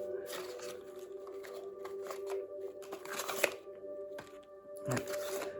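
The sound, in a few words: shuffling and laying out witches' tarot cards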